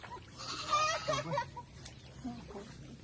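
A few soft clucks from a chicken at moderate distance on a rice farm in Luna, La Union, mixed with faint background voices and low ambient noise.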